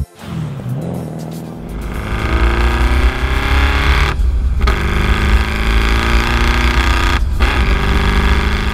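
An 800hp BMW E30 accelerating hard, a loud, close engine roar that climbs steadily in pitch through the gears, with two brief breaks at the shifts and no talking.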